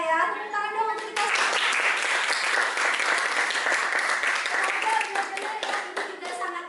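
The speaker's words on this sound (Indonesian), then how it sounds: "Tepuk tangan dong untuk kita." Applause for an online class breaks out after a brief voice and keeps up as a dense, steady patter of many hands clapping for several seconds, close and loud, with a voice returning near the end.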